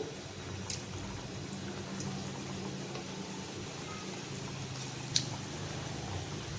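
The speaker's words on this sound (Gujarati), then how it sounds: "તો તેલ ગરમ થઈ ગયું છે હવે આપણે શક્કરપારાને તળી લઈશું" Shakkarpara dough pieces frying in hot oil in a kadai give a steady, soft sizzle with a few sharp pops and crackles rising above it. No one speaks.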